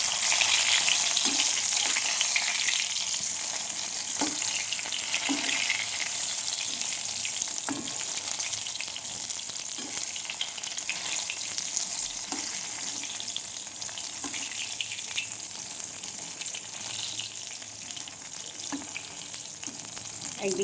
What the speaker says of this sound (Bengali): আমি বেগুন ভাজাটা উল্টে দিচ্ছি।